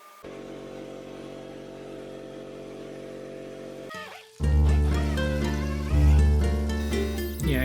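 A power wire brush runs against Honda GX390 engine parts, first a steady motor whine, then louder, harsher scraping grind as the brush bites into the metal, close up.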